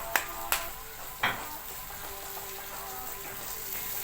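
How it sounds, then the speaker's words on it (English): Sesame onion sautéing with garlic and onion in a pan, a soft continuous sizzle broken by a few sharp clatters of a utensil against the pan early on. "Now continue sauteing it again until it's golden brown"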